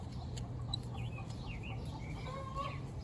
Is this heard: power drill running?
no